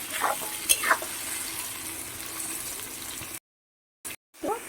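Potatoes frying in a pan for a mixed-vegetable dry fish curry give a steady close hiss for about three seconds, then the sound cuts out, with a brief clatter near the end.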